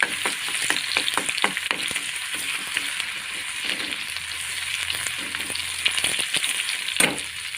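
Finely chopped garlic, about a spoonful, fries in hot oil for a village-style brinjal curry. The oil sizzles loud and close, with brisk stirring clicks and scrapes throughout and a sharper clatter near the end.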